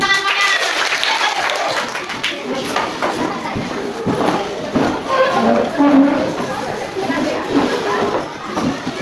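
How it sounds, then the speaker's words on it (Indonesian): A class of children claps together in a classroom, a dense, loud patter of many hands that carries on for several seconds, with voices mixed into it. "Tepuk tangan semuanya."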